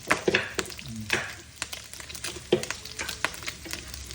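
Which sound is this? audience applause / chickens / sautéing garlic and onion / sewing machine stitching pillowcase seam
sautéing garlic and onion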